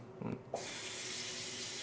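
A touchless sensor mixer tap switches on in a newly designed Kyiv apartment, and water gushes steadily into the sink, close and constant, after a brief faint knock.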